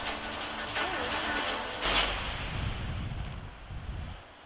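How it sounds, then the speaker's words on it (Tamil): Strong, steady wind roars throughout, a broad rushing gust with a brief louder surge near the two-second mark. "காற்று ரொம்ப ஜோராக அடிக்குது."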